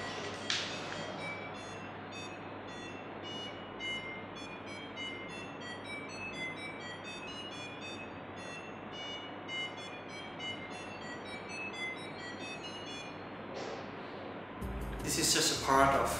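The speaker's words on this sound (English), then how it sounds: "the harvested energy from SIC4310 to drive a piezo buzzer here" A piezo buzzer on an SIC4310-FU development kit, driven by energy harvested through a phone tap, plays a melody. The thin, high notes step along faintly over low background hiss, and a short noisy burst comes at the end.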